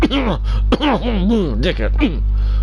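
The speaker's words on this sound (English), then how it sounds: "I've got major coughing problems." A man coughs and clears his throat in several rough, loud bursts at close range, with a voiced groan-like quality between them.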